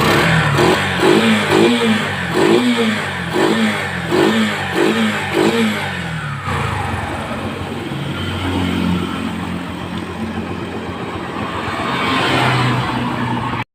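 A Yamaha STX 125 motorcycle with a weak stator runs close by, first blipped in a series of sharp rhythmic revs, then settling into a rougher, steady idle that swells slightly near the end.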